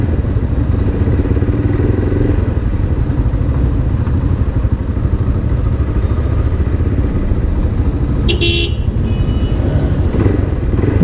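Motorcycle riding through slow, congested traffic in Carmona near Walter Mart, with a steady, loud engine drone and road rumble throughout and a brief higher clatter or horn-like burst near the end.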